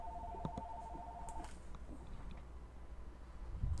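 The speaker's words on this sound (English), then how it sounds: "Oh, great. My phone is ringing." A phone rings with a short electronic tone that repeats for about the first second and a half, then stops, leaving quiet background noise.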